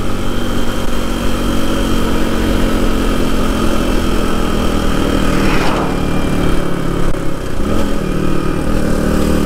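A Suzuki DR200 motorcycle engine drones steadily and loud while riding along a highway past a small town, with a brief shift in pitch about two thirds of the way through.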